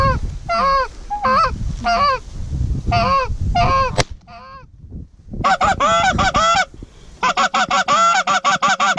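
Canada geese honk loudly in rapid overlapping bursts during a goose hunt in Saskatchewan, a noisy flock calling close by, with a sharp gunshot bang and a brief lull midway.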